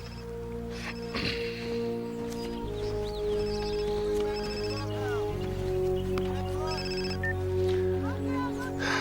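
A phone rings with repeated electronic trills in short bursts, sitting over a quiet background murmur.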